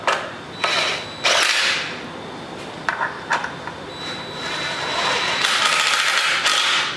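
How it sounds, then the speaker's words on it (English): Bolts being tightened on the bell housing of a Chevrolet 454 big-block transmission, with a series of short mechanical ratcheting and tool bursts separated by brief pauses, close and fairly loud, with no talking. "We're just going to tighten these up."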